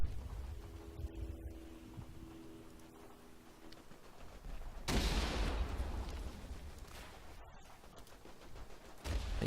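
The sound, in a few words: Minenwerfer mortar fire in the video game Verdun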